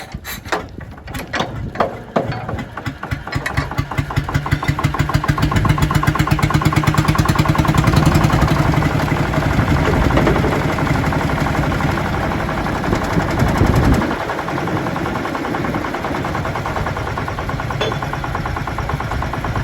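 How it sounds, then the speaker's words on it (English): A Deutz locomotive engine is cranked by hand, catches and settles into a loud, steady, rapid mechanical chugging that runs on alone without a break. "Ed will have another attempt at hand cranking the engine."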